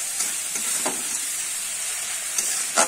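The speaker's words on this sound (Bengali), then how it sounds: "এইভাবে আমি বেশ কিছুক্ষণ কষিয়ে নেব" Spice masala sautéing in oil in a pan for a Bengali yardlong bean dish: a steady, close sizzling hiss with a few soft scraping stirs, no talk.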